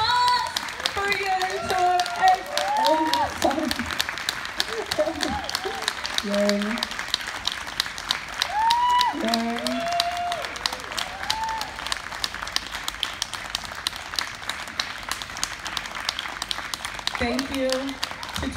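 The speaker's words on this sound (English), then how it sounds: "And big round of applause for you." Applause from an audience at a performance event in the Munch Museum, broad clapping running throughout while a voice talks and sings over it in spots, the clapping thinning slightly toward the end.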